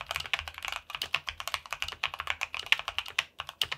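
Fingers type on a Keychron mechanical keyboard fitted with Gateron Oil King switches, a close, quick run of deep, muted keystroke clacks in an uneven rhythm with no one talking.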